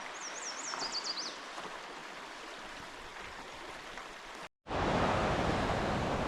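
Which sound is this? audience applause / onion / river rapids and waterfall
river rapids and waterfall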